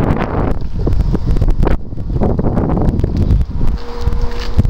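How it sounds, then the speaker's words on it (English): Strong wind buffets the microphone in continuous gusts at an allotment garden, with a low rumble and rustling; no talking. "It's getting windy as well."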